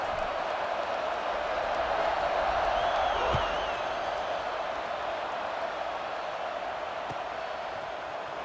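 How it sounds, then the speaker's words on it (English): Crowd buzzing in the stands of a College Football 26 video game after a score, a steady broad roar of cheering that holds throughout with a faint whistle-like tone partway through. "this crowd is buzzing after that last score"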